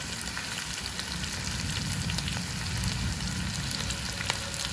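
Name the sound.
chicken frying in pan with masala and curry leaves added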